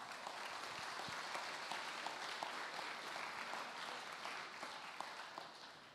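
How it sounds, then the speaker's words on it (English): Quiet crowd applause at a benefit auction, a continuous patter of many hands clapping at a distance, with a few sharper individual claps standing out. "Give yourselves a round of applause for a great night."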